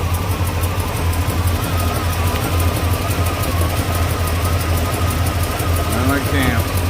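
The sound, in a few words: car engine idling after being restarted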